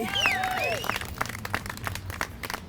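An audience claps at a veteran banner unveiling ceremony honoring veterans. The applause is scattered and fairly quiet, with a few whistle-like tones at the start before uneven clapping continues.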